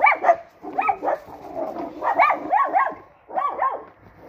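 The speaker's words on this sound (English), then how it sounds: "There's a dog barking at me." Dog barking outdoors in damp countryside, a steady run of repeated close barks with short pauses between.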